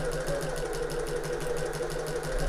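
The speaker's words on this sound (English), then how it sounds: "So I'm going to back stitch at the start here now" A sewing machine back stitching fabric for an open top tote bag, giving a steady, rapid mechanical whir with an even pulsing rhythm, close and on its own.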